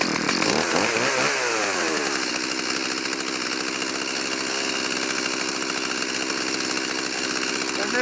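A Milwaukee M18 battery-powered chainsaw runs close and loud, with a steady high-pitched whine and buzz throughout and a brief sweeping rise in pitch near the start.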